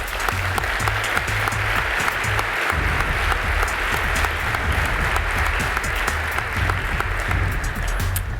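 Audience applause at a hall of fame induction ceremony, dense sustained clapping filling the room with a low hum underneath, loud and steady throughout with no speech.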